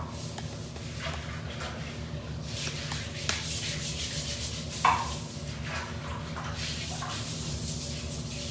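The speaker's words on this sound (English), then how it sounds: "we're going to be scrubbing the inside of the toilet" A toilet bowl in a public bathroom is scrubbed with a brush during commercial cleaning, giving a steady, close rubbing and swishing texture throughout, with one or two sharper knocks partway through.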